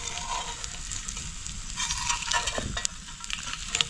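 An egg fries in a pan at a night campsite in a deep forest, a continuous crackling sizzle with a few louder pops and stirring scrapes, close up and with no talk.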